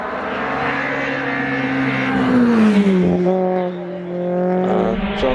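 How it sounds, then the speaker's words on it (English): A Volkswagen Golf accelerates hard away from the start during British hill climb practice at Prescott. Its engine sounds loud and continuous, climbing in pitch through the gears and then dipping as it draws away, with no voices. "James Hudson is away in the Volkswagen Golf."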